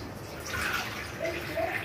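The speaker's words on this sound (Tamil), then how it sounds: "காய் முங்குற அளவுக்கு தண்ணி ஊத்தணும்." Water poured over citron (naarthangai) in a pan for pickle, a soft continuous splashing and gurgle at close range, fairly quiet, with no talk.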